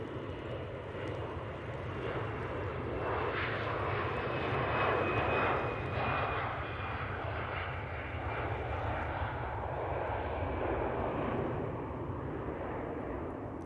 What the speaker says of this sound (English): Dreamliner now lining up